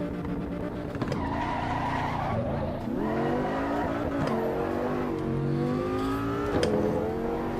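A race car in AC Evo slides off the track with long, wavering tire squeals over a revving engine, pitch rising and falling as it skids and recovers, loud and close throughout.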